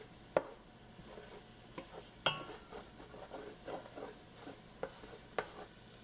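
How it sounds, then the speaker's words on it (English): A utensil stirs and scrapes across the bottom of a pan of sweet Southern-style BBQ beans, with soft sizzling beneath and several sharp scraping clicks at irregular intervals, close and without talk. "We want to take our time and scrape all the flavorful bits off the bottom of the pan."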